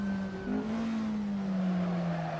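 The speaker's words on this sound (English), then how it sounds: "Oh, that's late braking, very late braking." A Porsche 718 RS 60 Spyder in Assetto Corsa brakes hard, its engine note sliding down in a steady falling whine with light tyre scrub, loud and close, with no voices.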